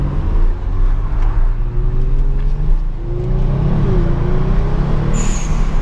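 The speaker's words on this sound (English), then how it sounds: "that is the loudest blow-off valves I've ever heard in my life" Kia Stinger 3.3T fitted with an HKS blow-off valve, its engine droning and revving loudly in sport mode, with a short sharp hiss burst near the end.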